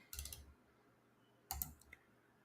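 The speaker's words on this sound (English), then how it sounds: "Keyboard's not too loud there." A computer keyboard is typed on in two short quiet bursts of rapid clicks, separated by about a second of near silence, close to the microphone.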